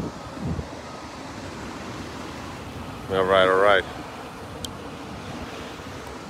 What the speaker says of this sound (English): I was afraid the waves would be too loud.